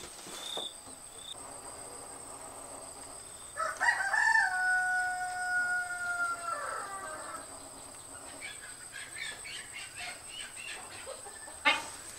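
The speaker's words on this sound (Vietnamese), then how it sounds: "Tìm con gà kêu á." A rooster crows once, loud and drawn out, on a farm where persimmons are harvested and ducks are kept, set against a steady whine of crickets and other insects.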